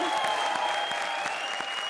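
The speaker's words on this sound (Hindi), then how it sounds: "चलो इनके लिए भी ताली बजाओ, जोरदार तालियों।" Dense, steady audience applause fills a Hindi TV comedy show studio, with many hands clapping close and loud and continuously, with no pause, for a couple of seconds.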